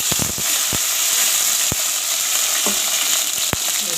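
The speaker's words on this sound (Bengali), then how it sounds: "তেলের মধ্যে আমি বন্ধুরা এই পাঁচ ফোড়ন আমি দিয়ে দিলাম" Five-spice seeds frying in hot oil, a dense continuous crackling sizzle punctuated by several sharp pops and stirring scrapes, close and steady, with no voices.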